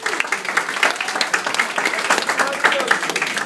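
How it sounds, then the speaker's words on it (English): Crowd at an art sale event giving a round of applause to the artists, dense, steady clapping with scattered cheers, close and fairly loud for the whole stretch. "a round of applause to all the artists"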